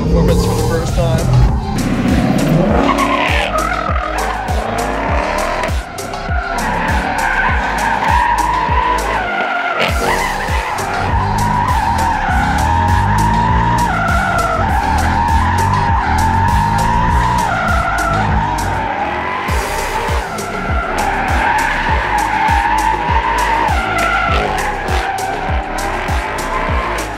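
A 2024 Mustang drifts with loud, sustained tire squeal and a roaring, revving engine throughout, close by, with excited voices over it.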